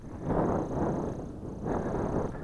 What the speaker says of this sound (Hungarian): Jó hideg szél fúj